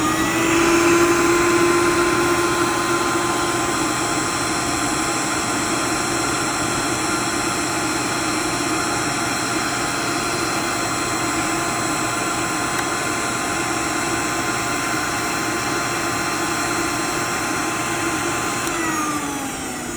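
A Sta-Vac vacuum forming machine runs continuously with a loud, steady motor drone and whine, unchanging for the whole stretch before winding down slightly at the very end.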